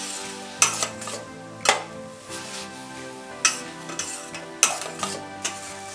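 Carrots being sautéed for carrot halwa, a spoon scraping and stirring them in a pan with periodic sharp clatters against the metal over a steady low hum, no talking.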